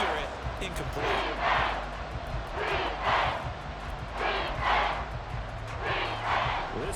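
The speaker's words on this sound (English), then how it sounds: "This crowd turning up the decibel level." Stadium crowd in the Madden NFL 24 video game, a steady roar with swelling waves of cheering, while a commentator talks over it throughout.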